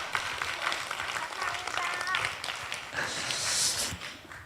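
A congregation at a Sunday children's service in a church claps in a burst of scattered, uneven applause. Children's voices and chatter mix in with the clapping.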